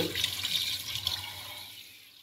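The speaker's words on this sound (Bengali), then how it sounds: "এই হচ্ছে ফুল, আর এইভাবে ধোয়া হচ্ছে।" Pumpkin flowers being rinsed under a running tap in a kitchen: a steady close splash of flowing water that gradually softens toward the end.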